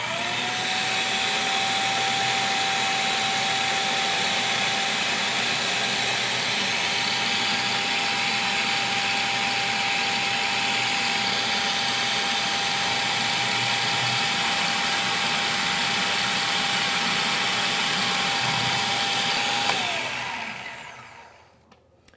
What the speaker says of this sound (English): we're going to add this pre-measured olive oil into the food processor as it's running.